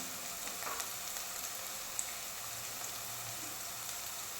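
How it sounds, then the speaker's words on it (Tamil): Onions frying in ghee for mushroom biryani, a steady, even sizzle held low and close throughout, with no talking. "நான் இந்த நெய்யில் வந்து வெங்காயம் கலந்து வேகும்போது சூப்பராக இருக்கும்."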